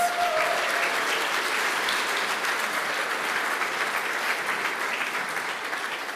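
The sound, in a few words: audience applause at awards ceremony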